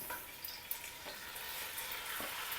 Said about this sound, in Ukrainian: Обсмажую ребра на олії.